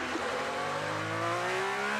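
An IndyCar race car screams past on track at the Indy Grand Prix as heard from inside another car, with a loud sustained engine roar whose pitch climbs steadily over two seconds.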